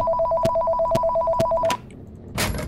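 An old-style telephone rings in the horror game Five Nights at Chuck E Cheese's, repeating steady electronic bell bursts for nearly two seconds before cutting off, followed by a short burst of noise.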